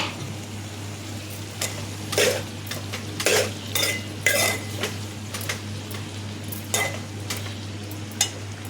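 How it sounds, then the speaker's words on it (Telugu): Green chillies frying in a pan: a soft sizzle underneath sharp clinks of a metal spoon scraping and stirring against the pan, which come in irregular bursts with no talking. "ఇప్పుడు పచ్చిమిర్చి వేయించిన కదా"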